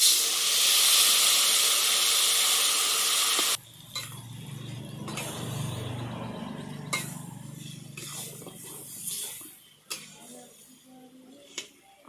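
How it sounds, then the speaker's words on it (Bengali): Mashed tamarind goes into a hot pan and is stirred, giving a loud steady hiss at first that drops to a softer sizzle with scraping stir sounds and a few sharp knocks, with no talk. "নাড়াচাড়া করে এবার মাখা তেঁতুলটা দিয়ে দেব।"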